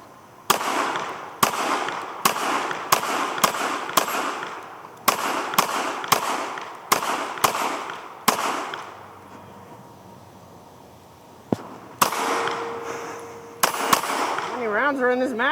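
A Walther WMP .22 Magnum pistol fires in sharp, loud shots, one volley after another with brief pauses, and a voice talks during a quieter stretch near the end.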